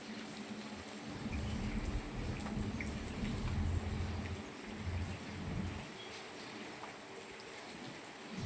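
Heavy monsoon rain pours steadily in a dense, broadband hiss in Moti Gop, Gujarat, with low rumbling thunder swells that rise and fall beneath it, no voices.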